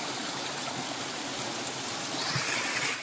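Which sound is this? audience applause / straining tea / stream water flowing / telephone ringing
stream water flowing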